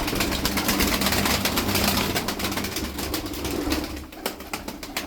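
Tokat tumbler pigeons coo close by in a continuous flock chorus, dense overlapping calls over a steady low background hum.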